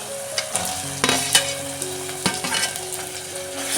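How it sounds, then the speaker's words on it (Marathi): Tomatoes sautéing in hot oil over a tempering for misal sizzle steadily and close by, with a few sharp clinks of a stirring spoon against the pan. "टॅमॅटो चांगला मऊ होईपर्यंत मी परतून घेते"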